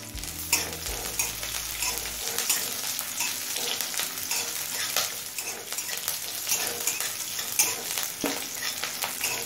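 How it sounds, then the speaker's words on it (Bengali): Chopped garlic and slit green chillies fry in a pan, a close, busy sizzle with crackles and occasional stirring scrapes, steady after a brief low hum at the start. "রসুন কাঁচা লঙ্কাটা দিয়ে মিনিট 2 ভেজে নিয়েছি।"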